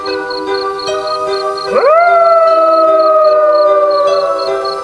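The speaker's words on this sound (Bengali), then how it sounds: "আচমকাই একটা কুকুরের মরা কান্নার আওয়াজ ভেসে আসে প্রত্যুষের কানে" A single dog lets out a long, mournful howl that swells suddenly and then holds a steady wavering pitch for several seconds, loud and close over a faint background hum.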